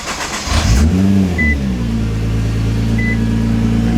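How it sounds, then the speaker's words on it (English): A Nissan R35 GT-R starts with a short crank, then its engine catches and settles into a steady idle hum, heard from inside the car with chimes and no talk. "Let's just turn the car on."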